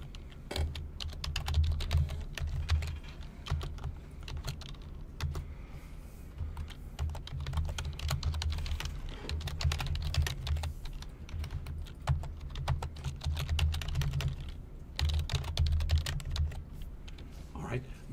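Steady typing on a computer keyboard while writing code, a fast continuous patter of close, soft key clicks over a low background hum for the whole stretch.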